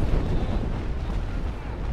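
Ship cannons fire broadsides during a naval battle in the Naval Action video game, a dense, continuous low booming rumble of overlapping blasts sustained throughout.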